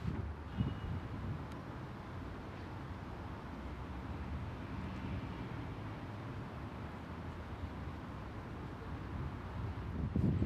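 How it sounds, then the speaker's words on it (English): Steady wind blows outdoors on a windy day at an open-air painting spot, a continuous low rumbling buffet with slight gusts swelling near the end, no voices. "One good thing about a windy day is it dries quicker"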